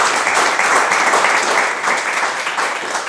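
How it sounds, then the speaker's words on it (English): Conference audience applause after a talk on smart contracts and staking at EthCC, with loud, close, dense clapping from many people that holds steady and then eases slightly. "maybe you can give a round of applause to."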